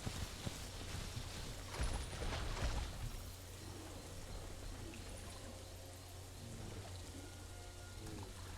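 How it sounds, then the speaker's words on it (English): Drinking water in The Isle survival game: soft lapping, pouring water noise that swells for about a second near the start, then a steady faint watery trickle over low ambient rumble, with no one speaking. "Let me get a sip of water."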